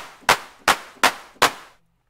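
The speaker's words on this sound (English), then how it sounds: "And you can do all kinds of crazy claps." Four crisp synthesized trap claps from the Serum synth, one of many clap variations, hitting at a steady pace with short noisy decays before falling silent, with no voices.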